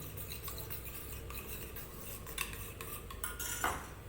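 A spoon whisks yogurt in a bowl to break up lumps for rajma dal, giving a steady light clatter and scraping of metal against the dish that builds to a couple of sharper clinks near the end, with no voices.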